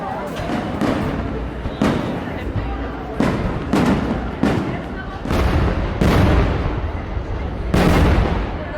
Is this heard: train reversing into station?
no